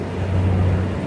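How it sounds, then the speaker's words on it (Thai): A tugboat engine revs loudly while towing heavy boats upstream, a deep steady rumbling drone, close and continuous with no talking. "เสียงเครื่องยนต์มันดังมาก ๆนะครับ"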